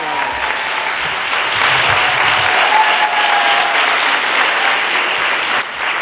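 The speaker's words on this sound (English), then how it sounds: "Let's give ourselves a great round of applause" Sustained applause from a large audience at the Dance/USA 2018 closing plenary, a dense, steady roar of clapping, loud and continuous throughout, with faint voices mixed in underneath.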